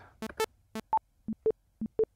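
A browser-based metronome's oscillator ticks out steady beeps, starting with a few buzzy sawtooth-wave clicks and then switching to cleaner tones that alternate between accented higher and lower pitches, short and evenly spaced with no talk.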